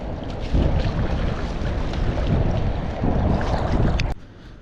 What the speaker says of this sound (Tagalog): malakas nga lang ang hangin oh